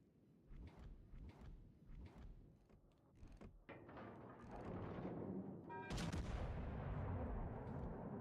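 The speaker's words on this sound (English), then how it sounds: "All stations requesting fire on the designated target." Artillery fire called onto a designated target in a video game lands as a series of separate heavy booms, then builds into a denser, louder roar of overlapping blasts, all fairly faint overall.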